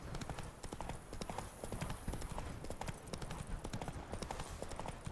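Roach the horse gallops in The Witcher 3, a fast steady clip-clop of hooves running close and loud, with someone speaking briefly over it.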